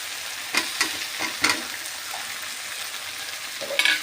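Chopped tomatoes go into frying chicken, a soft continuous sizzle under intermittent scraping and clinking strokes of a spoon stirring the pan, nearby and moderately loud, with no talking.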